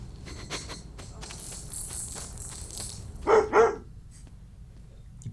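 Dogs bark in a TV drama scene, a couple of close sharp bark bursts rising above a low background hum and scattered faint sounds, with no talk over them.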